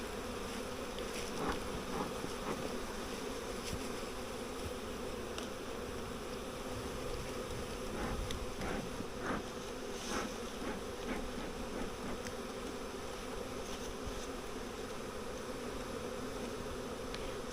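Honey bees buzz around hives being restored after heavy rain washed them away, a dense steady drone from many insects with occasional closer passes rising above an even outdoor background.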